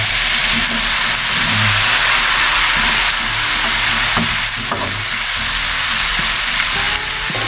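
Chopped squash sautés with garlic, onion and ginger in a pan, giving a loud, continuous sizzle with scraping stirs and occasional utensil knocks throughout.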